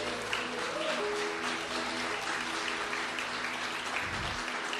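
A congregation at a worship service applauds steadily, a dense wash of clapping hands that holds at an even level from start to finish.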